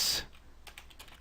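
Someone types on a computer keyboard, a few light scattered clicks following a brief louder burst at the start, faint and close.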